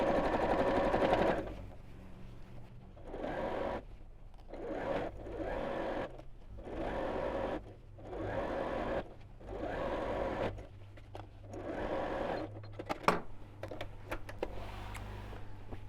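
A sewing machine stitches a seam on a reversible bag in several bursts, each a few seconds of quick close whirring separated by short pauses, ending with faint handling clicks.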